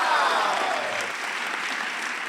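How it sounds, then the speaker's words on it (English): Broadband clapping from a small crowd or group, a steady wash of applause lasting a couple of seconds at moderate level, fading slightly toward the end. "Round of applause for me,"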